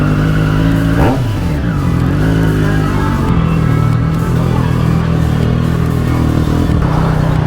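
Triumph Street Triple 765 RS motorcycle fitted with a Spark exhaust runs loud and close, a sharp rev around one second rising then settling into a steady, throaty idle-like drone throughout.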